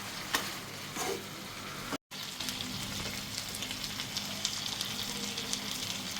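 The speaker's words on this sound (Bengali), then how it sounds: "এখনও মাংস কষানো হচ্ছে মাংস কষাতে কষাতে কিন্তু তেল বের হয়ে এসেছে" Mutton sizzles and fries in released oil, with garlic, in a pot as it is stirred, a steady close crackle broken by a brief cut, with occasional scraping clinks of the spoon.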